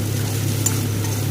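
Garlic and ginger paste frying with onions in a pan as masala for baby corn chilli, a soft continuous sizzle with a low steady hum beneath and a faint scrape partway through.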